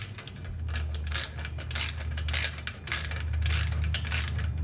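A hand ratchet tightening a smoked turn signal mount on a third-generation Toyota Tacoma, a close, repeated clicking in bursts of quick strokes with short pauses between.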